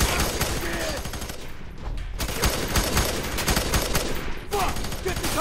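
Sustained gunfire from the video game FEAR 3 crackles in dense bursts throughout, loud and steady, with voices talking over the shooting.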